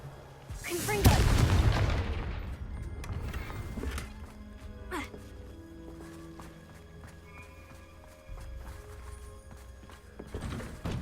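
A fire-blasting spell explodes in a video game, one loud burst near the start that fades into a long rumbling tail, followed by softer scattered in-game thuds and clatter.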